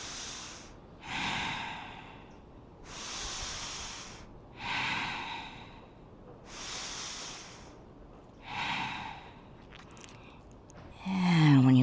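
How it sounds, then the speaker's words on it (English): Ujjayi breaths drawn during a power vinyasa yoga flow while holding a bow-shaped backbend: four slow, hissing, close breaths in a steady rhythm, with a brief louder sound at the very end. "Breathe your Ujjayi breaths."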